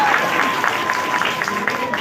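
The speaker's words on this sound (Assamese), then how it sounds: "এটা সুন্দৰ হাত চাপৰি দিয়ক" Crowd at a stage comedy show claps in a steady, busy patter while an announcer keeps talking over the applause.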